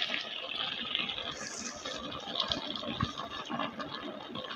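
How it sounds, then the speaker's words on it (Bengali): Water used to rinse a grinding stone splashes into a pan of cooking prawns, ginger, cumin and coriander paste, a continuous wet pouring hiss and bubbling with a few soft clunks. "এবার দিয়ে দেবো একটুখানি শিল ধোয়া জল, দিয়ে একটু নেড়ে দেব।"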